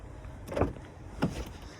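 A BMW G80 M3's rear door unlatches and swings open with two distinct clunks close by, the second heavier, over a faint background hum.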